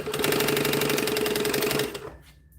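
A sewing machine stitches a gusset in a fast, steady mechanical chatter for about two seconds, loud and close, then stops abruptly with a faint click and no voices.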